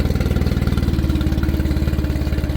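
A Tohatsu 15hp EFI four-stroke outboard engine runs steadily at fast idle with an even, rapid chugging pulse, close and alone.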